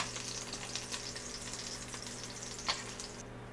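Food browning in an Instant Precision Dutch oven, a steady close sizzle and crackle of frying with a low electrical hum beneath and one small clink partway through, no voices.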